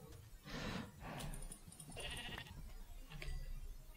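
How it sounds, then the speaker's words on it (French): Sheep in Minecraft bleat in a couple of short, blocky cries over a steady game-sound background, with a few lighter clicks between them. "Et je sais que j'avais plusieurs moutons qui m'ont lâché ici"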